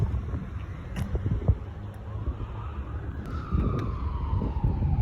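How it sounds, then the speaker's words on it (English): A siren wails over steady traffic rumble, its tone sweeping downward as it passes at moderate distance. "Why are the sirens for?"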